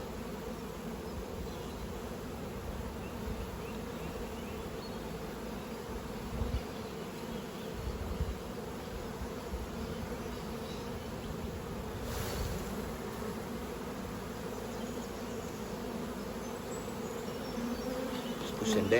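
Honey bees buzzing around an open hive in spring, a dense continuous hum of many insects close by, steady throughout with faint handling noises.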